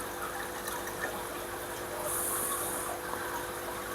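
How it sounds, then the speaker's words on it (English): Water pours from a round jug into a saucepan while shrimp are being caught, a quiet continuous splashing flow that swells briefly partway through before settling, heard close and alone. "I'm just going to pour the water out into the saucepan and catch them that way."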